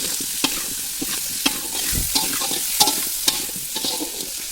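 Potatoes fry in hot oil in a pan in a village kitchen, a steady sizzle broken by sharp clinks and scrapes of a utensil stirring, close and loud with no talking.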